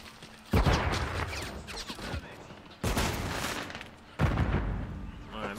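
Call of Duty Modern Warfare 3 online match with bursts of automatic gunfire, three loud sustained volleys each starting abruptly, rattling close and dense, with a player talking over the shooting.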